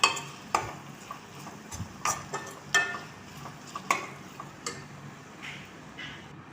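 Onion and tomato sauté in a pan for a soybean curry, with a soft low sizzle and a spatula tapping and scraping at an irregular pace, close by.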